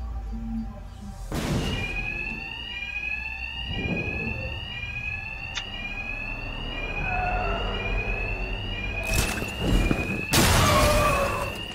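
An alarm rings in the video game Batman: Arkham Knight, a repeating warbling electronic tone that holds steady for several seconds amid loud thuds and bursts of game noise.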